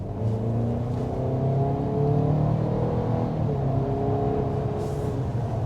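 A 2023 Chevy Blazer RS pulling hard under acceleration, a steady cabin-heard engine drone with rising harmonic tones and road roar, continuous and fairly loud with no talk.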